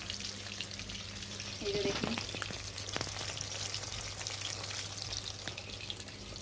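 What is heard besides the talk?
fish frying in a pan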